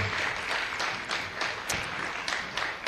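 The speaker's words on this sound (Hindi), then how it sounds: "जोरदार तालियां, जोरदार तालियां" An audience at a school naat and speech competition prize ceremony claps, a continuous, fairly distant patter of applause from a hall with a few louder claps standing out, and no talking over it.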